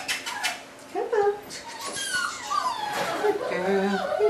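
A puppy whimpers and yips in high, wavering cries, close by, while a person talks and coaxes it in the same moment.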